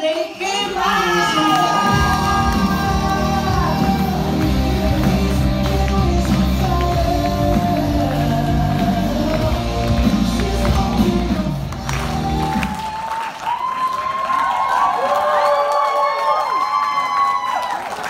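Large audience applauding and cheering for a newly honored Diamond Executive at a company conference, a dense roar that stays loud throughout, with shouts over the clapping.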